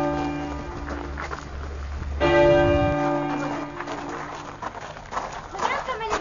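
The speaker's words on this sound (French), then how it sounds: "c'est le cloche de l'église" Church bell ringing in Cauvigny, a resonant tolling stroke ringing out mid-clip with a long sustained hum, mixed with footsteps and people talking nearby.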